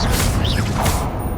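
Confringo, an explosive spell cast in the video game Hogwarts Legacy, producing a loud, dense burst with whooshing, crackling texture that rumbles for about a second before cutting off.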